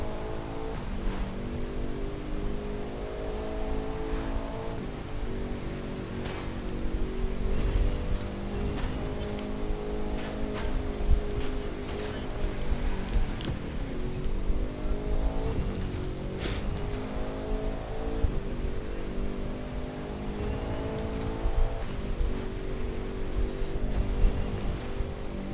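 Race cars rev and accelerate during a highway race in a racing video game. A sustained engine drone rises and falls in pitch across several gear changes, with a steady roar of road noise underneath.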